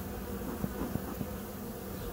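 Bees buzz in a dense, continuous drone around a large beehive during a hive check. The swarm sounds close and constant, with a few faint knocks and no voices.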